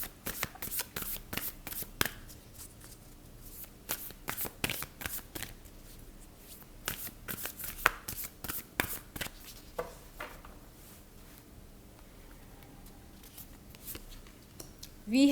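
Guidance cards for a horoscope reading are shuffled by hand in quick, crisp riffling flutters, close up, in repeated bursts that thin out toward the end.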